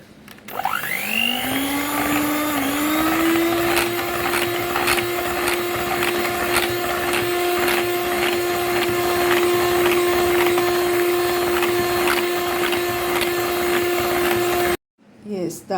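An electric mixer beats a sugar and spice mixture for a plum cake, whining up to a steady loud drone that runs continuously with rattling ticks, then stops suddenly.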